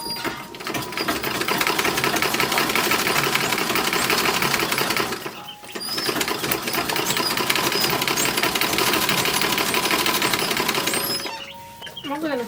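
A sewing machine stitches the side and shoulder seams of toddler underwear in two long continuous runs with a rapid mechanical rattle, pausing briefly between them, close and loud.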